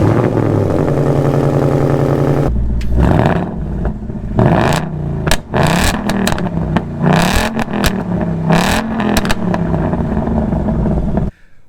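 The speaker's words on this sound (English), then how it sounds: "let me share with you guys some exhaust clips, and hopefully you guys will understand why I love this exhaust so much" A tuned Ford Mustang's exhaust revs loud and close, opening with a steady idle burble and then running through a string of sharp throttle blips and rising roars, with no one talking.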